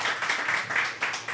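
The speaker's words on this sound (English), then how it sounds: "We have to clap for that." An audience at an underground boxing event claps loudly and continuously, a dense close wash of hand claps with slight surges and no speech over it.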